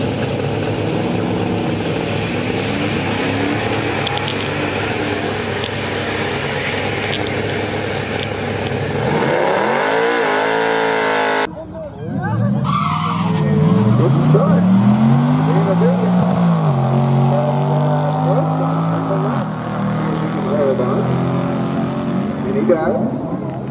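A 2020 Honda Accord Sport 2.0T with manual transmission at a track-day drag race, engine droning loudly and rising through gears, then revving hard again after a brief cut, with people talking over it.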